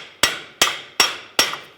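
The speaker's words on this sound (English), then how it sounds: "Let's hammer the axle through." Four evenly spaced, sharp metallic hammer strikes drive a CV axle through the steering knuckle of a 2012–2022 Ford Focus. Each blow is close and loud, with a brief ringing decay, and no one speaks.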